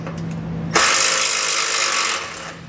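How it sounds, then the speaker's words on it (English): A power tool whirs loudly for just over a second, backing out a 10mm bolt from the frame rail of a 2020 Ford F-150, then cuts off. "It's going to have a 10mm head, so we'll go ahead and pull it out."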